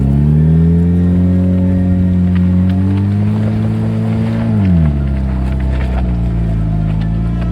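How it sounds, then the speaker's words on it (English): Jeep Wrangler with lockers engaged climbing a snowy off-road hill, its engine droning loud and close, holding steady and then dropping in pitch as throttle changes partway through. "With the lockers now engaged and a bit more throttle at the right time, I was at the top."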